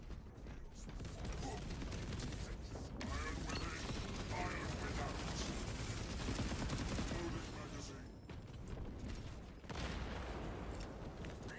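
Dense gunfire from a Space Marine 2 multiplayer match, a steady wash of shots and explosions lasting throughout, with brief dips near the end and voices faintly underneath.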